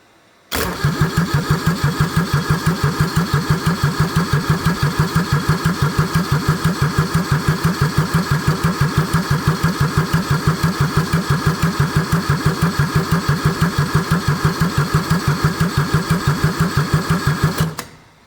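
A Kubota D640 diesel engine fitted with a D722 head cranks with a fast, even rhythmic chug that runs loud and steady for most of the stretch, then cuts off abruptly.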